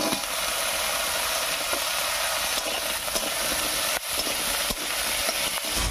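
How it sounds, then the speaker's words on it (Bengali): Cut potato pieces land in hot oil with cumin seeds and browned chopped onion, giving a steady, loud broadband sizzle and crackle with a few sharper pops, no talking. "এবার এর মধ্যে দেবো কেটে রাখা আলু।"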